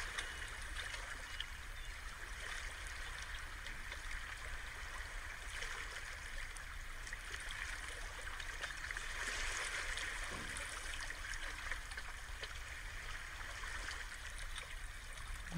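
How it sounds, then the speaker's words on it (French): Gentle sea waves wash onto a beach and slide back to the water, a soft, continuous rushing and trickling wash, faint and even throughout, with no voices. "L'eau qui part sur la plage et qui revient à la mer"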